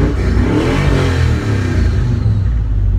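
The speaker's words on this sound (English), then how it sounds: "That is a Corvette engine inside this car." A Corvette engine fitted in a car revs up loudly and close by, a deep throaty rumble swelling and holding steady over a few seconds, with no voices over it.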